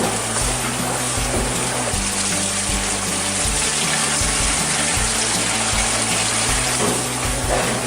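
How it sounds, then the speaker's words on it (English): Sushi rice rinsed in a container of water, a steady loud rush of running and sloshing water throughout with a low pump-like hum underneath, no talking. "You want to rinse it enough so the water runs clear."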